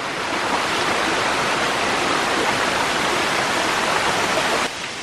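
Loud, steady rush of a fast-flowing river swollen by recent rain on the Foothills Trail, a dense continuous roar filling the whole clip without a break.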